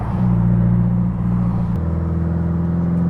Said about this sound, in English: So I am driving the car.